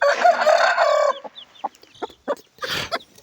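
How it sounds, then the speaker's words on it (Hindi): A rooster, kept with hens, crows loudly and close up, then gives a series of short, broken clucks spaced irregularly. "तो मुर्गा मस्ती विच है, देखिया जी माशाल्लाह।"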